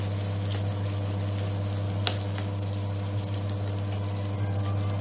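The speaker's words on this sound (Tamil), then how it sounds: "அண்டிப்பருப்பையும் சேர்த்தே பண்ணிடலாம். கொஞ்சம் ப்ரௌன் கலர் வர்ற வரையும் வறுத்துக்கிட்டால் டேஸ்ட்டாக இருக்கும் பொங்கலுக்கு" Cashews fry in a pan until brown for pongal, giving off a constant, even sizzle under a low steady hum, with one brief clink. Nobody speaks.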